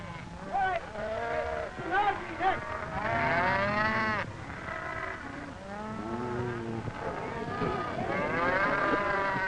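Cattle mooing at an Apache cattle roundup: a herd of cows lowing repeatedly, overlapping long moans and shorter calls from several animals, steady and fairly close over a constant outdoor din.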